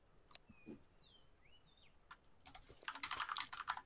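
Computer keyboard typing picked up through a game player's microphone, faint at first beneath a few thin whistling tones, then breaking into quick, clattering bursts of keystrokes toward the end.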